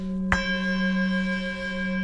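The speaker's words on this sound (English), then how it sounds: "I like to gong the gong and settle back down" A gong struck once, giving a sharp attack followed by a sustained, shimmering ring that hangs on steadily without fading much.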